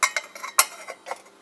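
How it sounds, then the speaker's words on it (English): Metallic clinks and a sharp clang as a lid is set onto a pot of water heated by tea light candles, a few light taps around it, close and alone. "Put this lid on it."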